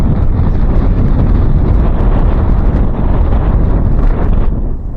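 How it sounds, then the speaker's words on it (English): Heavy wind buffets the microphone with a loud, low rumbling roar that stays constant throughout, no voices over it. "it's quite windy out here today"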